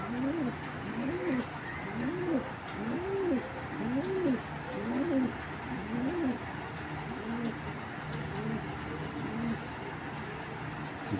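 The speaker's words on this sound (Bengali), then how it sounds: "মাশাআল্লাহ অনেক সুন্দর ভাই, অনেক সুন্দর একটা কবুতর" A pair of foreign pigeons, male and female, give soft repeated rolling coos in a steady rhythm of about one per second, nearby and fairly faint, fading out toward the end.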